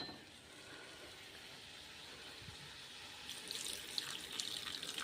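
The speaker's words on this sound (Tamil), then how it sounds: "இப்போ நான் தண்ணி ஊற்றிக்கிறேன்." Water poured into a pan of poori potato masala, a soft steady trickling stream that grows brighter and more splashy toward the end, faint and close with no talk.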